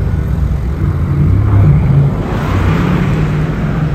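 A Mercedes-AMG GT R supercar on a Paris street, a loud deep engine drone with a low throaty rumble that swells briefly in the middle as it passes close by, with no voices.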